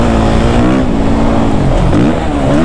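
A Suzuki RM-Z450 dirt bike's 450 engine revs loud and close, its buzzing note holding steady, then dipping and climbing again as the throttle changes, with no voices over it.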